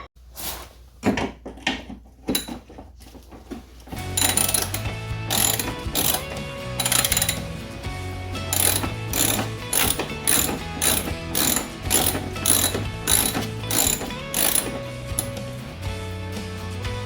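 Ratchet wrench clicking rapidly in repeated bursts while backing screws out of a C3 Corvette radiator core support, loud and close, with short pauses between runs of clicks.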